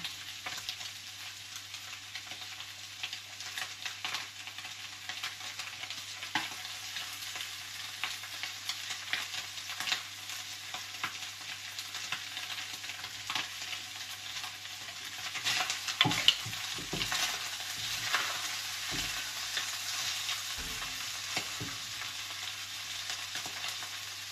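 Bottle gourd frying in a pan with sardines and chicken, a steady close sizzle with occasional stirring clinks and scrapes, louder and busier toward the latter part.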